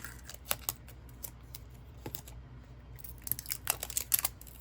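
Very sharp scissors cut into a package for a puzzle resin project, giving a few crisp snips and crinkly crunches. The sound is close, arrives in bursts, and falls quiet between cuts.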